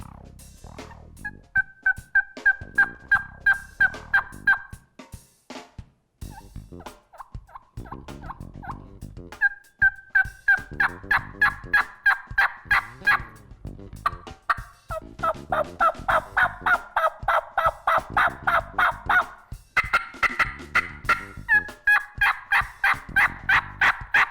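Repeated runs of turkey hen yelps from a mouth call, imitating two or three different hens, some soft and some louder, in rhythmic series with brief pauses between sequences.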